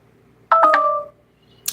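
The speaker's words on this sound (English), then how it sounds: "Oh, that's my phone dying." Smartphone chiming a short, bright electronic tone as its battery dies, a single close, clear beep with a faint click just after.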